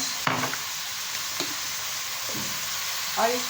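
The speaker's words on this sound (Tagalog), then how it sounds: "Niloloto ko na ang aking canton." Pancit canton noodles frying in a pan with oyster sauce and vegetables, giving a steady close sizzle throughout with a few scraping stirs and light clinks.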